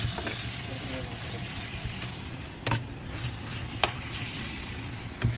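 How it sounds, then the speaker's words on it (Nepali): Minced meat (keema) frying in a hot pan for keema noodles, a continuous close sizzle with a few sharp spits and clinks of stirring breaking through. "अब किमा भर्दैछु मैले"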